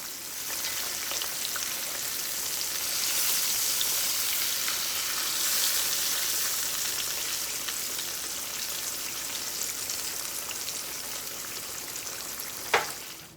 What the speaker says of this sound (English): by frying them on a kind of a high medium, you're ensured that it's cooking inside out